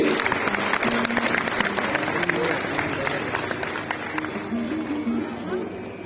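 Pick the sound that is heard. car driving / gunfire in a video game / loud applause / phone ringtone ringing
loud applause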